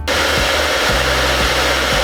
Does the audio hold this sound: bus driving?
no